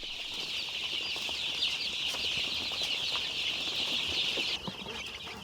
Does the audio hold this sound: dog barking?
no